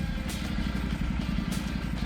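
Honda NC750X DCT motorcycle engine running with a steady low, even thrum, close and continuous with no gaps.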